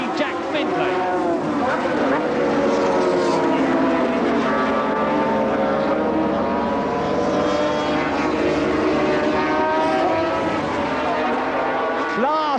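750cc racing motorcycles of 1977 sweep through Brands Hatch, a steady high engine whine with shifting pitch sweeps as bikes pass, under continuous commentary.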